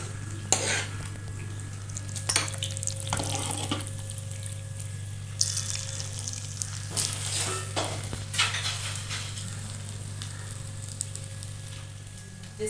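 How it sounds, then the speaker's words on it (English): Tikki sizzling in hot oil on a tawa, a steady frying hiss with scraping and stirring clatters over it, close and continuous. "the tikki is getting roasted in tawa"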